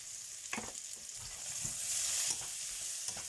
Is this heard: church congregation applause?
no